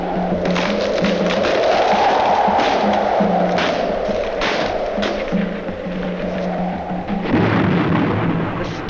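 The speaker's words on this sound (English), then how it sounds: "The storm is coming, Mr. Pierce. And it's a hurricane." Thunder from an approaching hurricane storm, with a continuous loud rumble and heavy wind-like roar and a stronger surge near the end.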